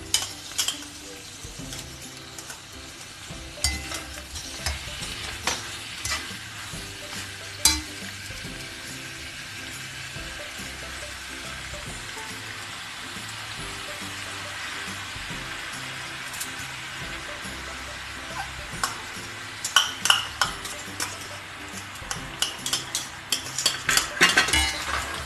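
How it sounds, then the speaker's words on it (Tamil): Boiled macaroni is stirred through sautéed vegetables and masala in a pan, with a steady low sizzle under scraping and clinking of a spoon against metal that grows busier and sharper toward the end. "இது எல்லா பக்கமும் நல்லா கோட் ஆகிற மாதிரி மிக்ஸ் பண்ணிக்கலாம்."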